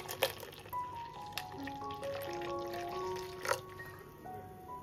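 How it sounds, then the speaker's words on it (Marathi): Chilled water poured into mint sherbet, a faint, close trickle whose gurgling tone climbs as the vessel fills, with a couple of soft drips and clinks. "मस्त थंड एकदम चिल्ड पाणी टाकू"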